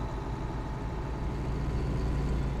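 Steady low engine drone of a farm vehicle in Farming Simulator 19 on the Walchen 2K20 map, a continuous rumbling hum that holds even and unbroken from start to finish with no talk.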